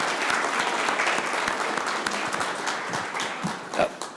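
At a city council meeting, a crowd applauds a group of young scouts, a steady round of clapping that thins toward the end, with a few louder individual claps and a brief voice near the close.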